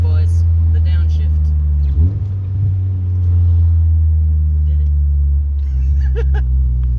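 Honda VTEC engine with a junkyard clutch blips during a heel-toe downshift: a steady, loud in-cabin drone with a short rev spike near the middle, then the engine settles back into its low hum.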